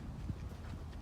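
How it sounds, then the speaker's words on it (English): Hooves clip-clop as a horse with a rider trots past in a riding arena, a few soft, fairly faint beats in quick rhythm. "My trainer on that horse trotting by"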